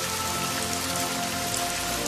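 Cartoon-style rain effect in a rural village setting, a steady dense patter of drops on surfaces filling the whole stretch at even loudness, with no voices.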